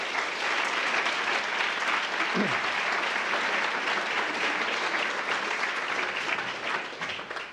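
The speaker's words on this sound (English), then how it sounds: "Give them a big round of applause." Audience applause for event staff at an evening storytelling gathering, a dense, steady wash of clapping filling the room for the whole stretch and thinning slightly near the end.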